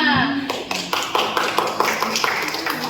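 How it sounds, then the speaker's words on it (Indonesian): A group claps in steady, fairly quick rhythm during a motivational reflection session, each clap crisp and close, with a voice talking over the start. "Oke, tepuk tangan buat kita semua"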